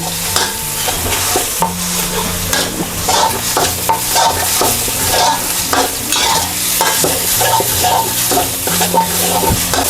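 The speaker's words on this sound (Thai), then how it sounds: "ให้เรานำพริกแกงนะมาผัดในน้ำมันค่ะ ด้วยไฟอ่อนนะ" Thai curry paste stir-fried in oil over low heat with a spatula, a steady close sizzle and frying crackle with repeated scraping strokes against the pan throughout, no voices.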